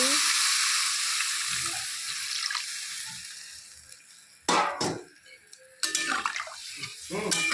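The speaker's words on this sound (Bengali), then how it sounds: "এখন ঝোল দিয়ে দিচ্ছি" Broth poured into a pan of singhi fish cooking with ridge gourd, a steady hiss of liquid hitting the hot pan with sizzling, broken by a few louder splashes and clatters near the end.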